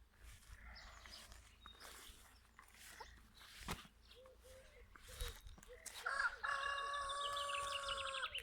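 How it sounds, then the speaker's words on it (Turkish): A rooster crows loudly and close by near the end, after a stretch of quiet garden ambience among apple and walnut trees with faint rustling. "horoz ötüyor baksana"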